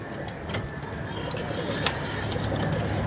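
Pigeons coo softly outdoors, a few low cooing calls set against a steady background hum and rustle.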